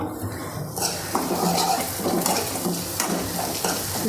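Onions, green chillies and a sprig of curry leaves fry in a pan, with a continuous close sizzle broken by repeated scraping stirs of a spoon against the pan and no talking.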